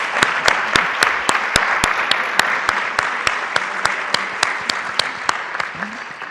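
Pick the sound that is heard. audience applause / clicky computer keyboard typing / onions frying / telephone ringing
audience applause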